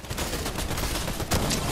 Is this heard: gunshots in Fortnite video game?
yes